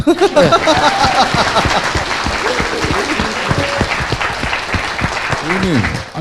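A studio audience at a Korean talk show breaks into loud, sustained applause, with voices talking and laughing over the clapping throughout.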